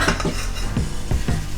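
Drained collard greens are tipped back into a pan with a few soft clanks and scrapes of metal and utensils, close and fairly quiet.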